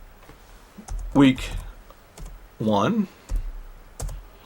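A folder name is typed on a computer keyboard, giving a few light, scattered key clicks between and beneath a person talking.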